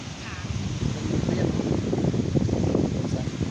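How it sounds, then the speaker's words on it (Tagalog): Heavy wind at San Jose, Sabang, Camarines Sur, Philippines, buffets the microphone with a steady low roar and gusty rumbling throughout. "Mas malakas yung hangin dito."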